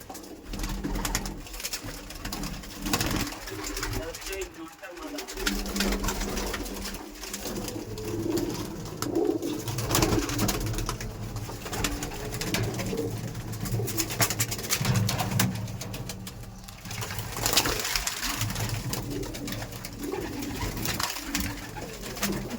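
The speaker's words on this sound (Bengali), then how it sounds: "আর পায়রা প্রচুর অ্যাগ্রেসিভ, প্রচুর ধারণা করার বাইরে এই সমস্ত পায়রা।" Madrasi pigeons, kept as aggressive tournament-quality birds, coo repeatedly inside a large loft in Dum Dum, a thick overlapping chorus of low throaty calls with scattered wing flutters and shuffling, loud and close, with no talk.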